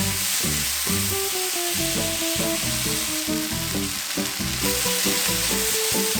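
Oysters stir-frying with soy sauce and oyster sauce in a hot pan give off a steady loud sizzle. Over it run irregular rhythmic clanks and scrapes from a utensil working the pan, close up throughout.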